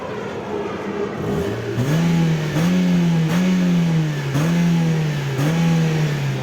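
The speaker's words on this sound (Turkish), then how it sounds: "Aracımız şu an bizim istediğimiz değerlerde çalışıyor." A petrol car engine runs after a repair that cured black exhaust smoke caused by a wrongly fitted part, revving up loudly from idle in a series of repeated, evenly spaced blips up close, with no talk.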